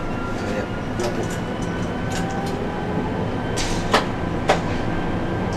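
Dualis tram-train running between Le Bourget and Epinay, heard from inside the driver's cab: a steady rumbling drone throughout, with occasional faint clicks and two sharper rattles near the end, and a voice faintly under the noise.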